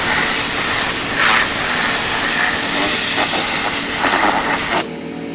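Compressed-air blower blowing out a car interior during detailing, a loud continuous broadband hiss that runs steadily for nearly five seconds before cutting off abruptly.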